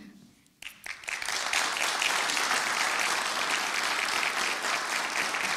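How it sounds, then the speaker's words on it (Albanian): After a brief spoken word, an audience breaks into long, sustained applause for the staff of Radio Gjakova at its 40th anniversary event, a dense, even clapping that fills the room and holds steady to the end. "Kërkoj një duartrokitje të gjatë, për zërat ikonë, për stafin e palodhshëm të Radio Gjakovës"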